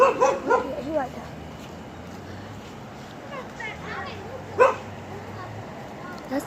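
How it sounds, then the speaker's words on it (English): Several dogs barking and yipping in short bursts at a household where a new dog has just arrived, with a few louder barks standing out among quieter whimpers and background noise. "While the other dogs, they barking."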